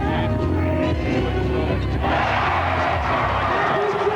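Arena crowd at a 1992 NBL basketball game between the Newcastle Falcons and North Melbourne Giants roars after a three-pointer, a loud, sustained swell of cheering and shouting that builds midway, with a commentator's voice running underneath.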